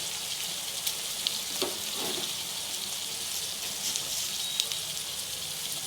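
Onions, tomato and ginger garlic paste fry in a pan for gongura mutton curry, giving a soft, steady sizzle with faint crackles and a few brief stirring scrapes.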